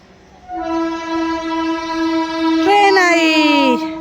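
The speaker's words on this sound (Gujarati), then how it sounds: "ટ્રેન આવી." A train blows a long, loud, steady horn that rises and bends in pitch partway through as it approaches and passes close by, with faint rumbling underneath.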